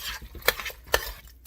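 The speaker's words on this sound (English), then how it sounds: "Stir it up." A spoon stirs green chili into pork chili verde in a pot, giving three sharp scraping clinks against the pot spaced evenly over a soft bubbling background, close and fairly quiet.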